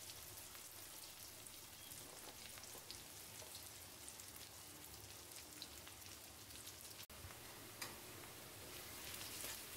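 Chopped onion and garlic with dried chilli frying in hot oil, a steady dense crackle and hiss running unbroken and fairly close throughout, with a brief sharper pop midway.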